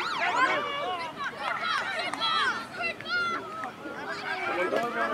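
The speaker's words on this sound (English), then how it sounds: "What was that siren for?" A siren sounds at an amateur football match between the Toongabbie Tigers and Hills District, partly buried under steady crowd chatter and shouting voices throughout.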